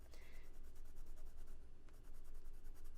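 Colored pencil scratching steadily across paper while coloring, a close, continuous dry rasp with a short pause partway through.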